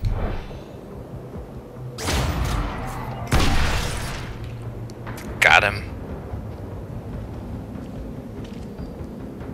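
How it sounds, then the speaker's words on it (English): A loud explosion booms through the video game Chronicles of Riddick, with two heavy broadband bursts followed by a sharper crack, as someone talks over the action. "In a, in a satisfying explosion."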